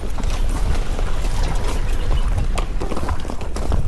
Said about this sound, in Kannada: ನನ್ ಕುದುರೆ ಫುಲ್ ಗಲಾಟೆ ಮಾಡ್ತಾ ಇದೆ